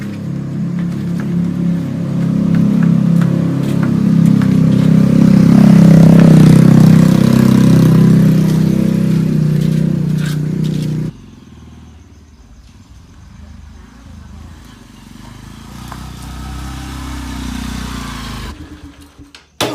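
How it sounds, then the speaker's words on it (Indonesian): A loud motorcycle engine rumbles close by for about ten seconds, then cuts to a much quieter background hum. "Motor teh bedas pisan."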